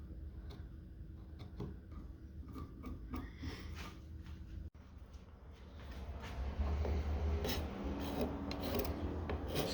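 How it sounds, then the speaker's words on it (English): A card scraper rasps along a wooden axe handle during refinishing, giving repeated close scraping strokes in an irregular rhythm that grow louder and denser toward the end, with no talk. "Just going through using the card scraper."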